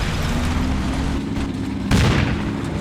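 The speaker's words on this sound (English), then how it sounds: "Throwing grenades." Heavy rumbling battle noise from the World War II tactical game Combat Mission Final Blitzkrieg, with a sharper grenade blast bursting out near the end over a steady low roar.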